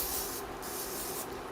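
Cooking spray hisses from a can over a pan while chilaquiles are made, a loud, close, airy spray in three bursts separated by brief pauses, with no talking.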